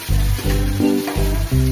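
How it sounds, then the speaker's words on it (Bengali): Chicken pieces sizzle loudly while being sautéed in a pan, with the frying hiss coming in repeated bursts as the meat is stirred and turned, close and with no talking. "এবারে মাংস কষাতে হবে।"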